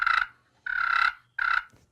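Three short rolling bursts from a friction turkey call, the striker dragged across the middle of the surface, each purr a close, fluttering trill with brief pauses between them.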